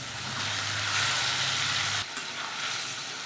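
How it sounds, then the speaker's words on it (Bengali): Fried fish and eggplant pieces go into a sizzling spice paste for a Bengali curry, a close, loud, continuous frying hiss with a low rumble that cuts off partway through, no voices. "এবারে ভেজে রাখা মাছ আর বেগুনগুলো দিয়ে দেবো।"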